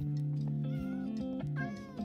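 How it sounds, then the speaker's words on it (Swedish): Cats meow indoors in a high, drawn-out wavering cry that rises and falls, fairly quiet and close, with a second call near the end. "Snäll Bove, låt katterna vara."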